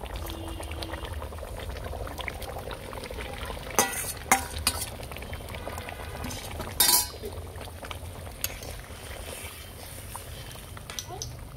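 Egg and cauliflower curry with boiled potatoes, made with country chicken eggs, simmering in a covered pot, a quiet low bubbling broken by a few sharp clanks and scrapes.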